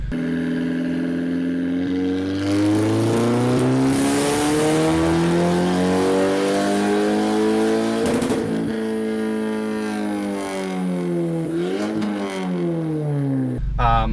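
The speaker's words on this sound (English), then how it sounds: "So this is really a heavily modified car." A heavily modified 330 wheel-horsepower all-wheel-drive Audi A4 (B8, K04 turbo, methanol injection) revs and accelerates nearby, pitch climbing through gears then dropping and rising again, loud and continuous with no talk.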